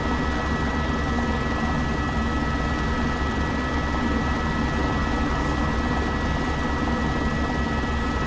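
An H125 helicopter flies in the X-Plane 12 simulator over the Karakoram mountains: a steady, dense rotor and turbine drone stays at an even, fairly loud level throughout, with no talk.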